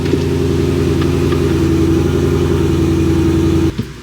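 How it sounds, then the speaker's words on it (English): A car engine idling steadily up close after being started, with a smooth, loud, even low rumble that holds constant, then cuts out abruptly near the end. "So let's start her up. It idles so much better."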